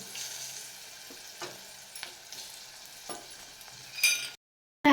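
Ripe banana pieces fry in a pan with a soft, even sizzle and a few light scrapes, then a brief louder rattle before the sound cuts to silence and returns for a moment at the end.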